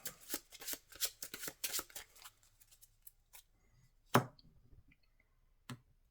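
Digital card shuffle in a Marvel card video game: a rapid run of crisp riffling clicks over the first two seconds, then a few isolated snaps and one louder thump-like card sound later, with no talk.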